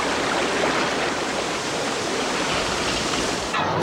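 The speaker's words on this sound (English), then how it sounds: "It can turn a placid river into a raging torrent." A raging river torrent swollen by thunderstorm rain roars as a loud, dense, continuous rush of water, unbroken for several seconds with no voices.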